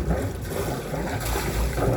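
Cooling water gushing and splashing out of a boat's exhaust outlet just after the engine starts, a steady close wash of running water over a low engine rumble.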